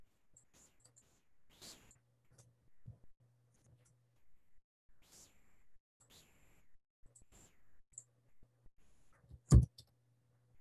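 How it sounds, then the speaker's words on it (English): Chalk or marker strikes a board during an architecture lecture, making quiet, scattered taps and short scratches separated by pauses, with one sharper knock near the end. "I'll write it down"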